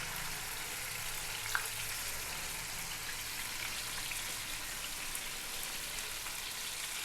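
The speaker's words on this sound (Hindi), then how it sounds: "इसको हमने लाइट सा फ्राई कर लेना है" Fish fries gently in moderately hot oil in a pan, a soft, even sizzle crackling quietly throughout with a faint tick or two.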